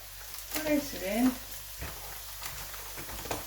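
Minced beef going into a hot pan for a minced beef and onion pie, a soft sizzle with some scraping and stirring noises, a few clattering knocks and no clear talk.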